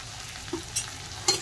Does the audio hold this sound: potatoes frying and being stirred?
yes